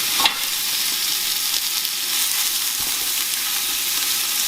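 Beef browning in hot oil in a pot for a Mexican beef garden soup, a steady crackling sizzle with a brief scrape near the start, close and uninterrupted.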